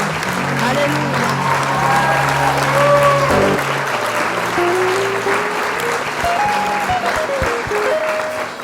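Audience clapping steadily throughout an evangelical church conference in Paris, a continuous dense applause with a sustained musical tone and voices mixed underneath.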